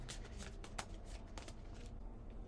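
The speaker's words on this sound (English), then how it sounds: "We're just going to give a little shuffle." A small deck of affirmation cards is shuffled close up: a quick run of soft, papery riffles and flicks over about two seconds, quiet and alone with no talking.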